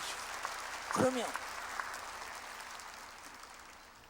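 A church congregation claps during a worship service. The applause is a brief, moderate burst, and someone speaks briefly over it before it fades.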